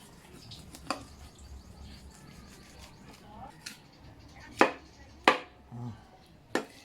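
Knife chopping through pieces of a 5 kg yellowfin tuna, a few sharp isolated impacts spaced apart, the last ones loudest, over quiet kitchen background.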